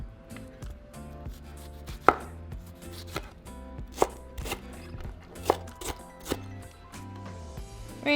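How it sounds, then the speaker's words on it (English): Tomatillos are being chopped into small cubes with a knife on a cutting board, making a series of distinct, irregularly spaced taps, some sharper than others, over a background of quiet music. "we're going to cut our tomatillos into small little cubes"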